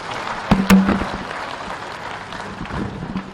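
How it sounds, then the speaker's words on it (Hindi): Rally crowd at a public meeting at Sir Padampat Singhania University near Udaipur clapping to welcome Union road transport minister Nitin Gadkari, a few sharp loud claps up front opening into sustained, somewhat uneven applause. "एक बार जोरदार तालियों से स्वागत करें।"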